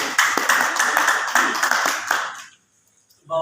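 A crowd claps steadily for a couple of seconds, then the applause fades out into near silence before a voice starts.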